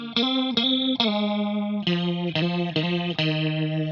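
Electric guitar lead tone through a Fractal FM9 modeler, played as a solo: sustained, harmonically rich notes with a chorus-like shimmer, held for long stretches, with a few quick note changes and clean attacks, loud and alone.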